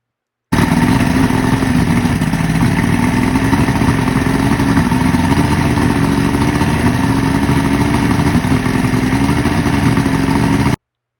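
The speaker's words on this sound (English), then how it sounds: "as you can see, the engine runs really good" A 1979 Ranger 185-A bass boat's outboard engine runs steadily at idle, a loud continuous rumbling drone with a rattling edge that holds even for the whole stretch.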